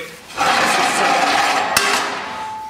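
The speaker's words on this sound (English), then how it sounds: "this is our washer machine" An apple washer machine at a cider house starts up with a loud, steady mechanical rumble and hum, with one sharp metallic knock partway through, heard up close with no voices.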